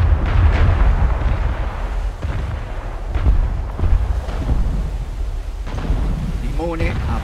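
Battleship artillery in the naval game War Thunder booms in heavy, rumbling blasts at intervals, with rolling low echoes and a voice speaking briefly near the end.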